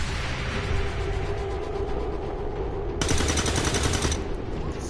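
Sustained gunfire in the video game Earth Rising Coalition, a steady, loud spray of rapid shots with a sharper, brighter burst near the end and no clear talk.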